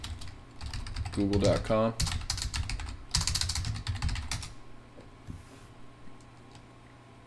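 Typing on a computer keyboard in quick clattering bursts, close up, interrupted by a brief spoken word, fading to quiet near the end.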